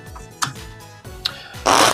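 A deck of cards, jokers included, handled before a single shuffle: a few soft taps and slides, then a short, loud riffling burst at the end.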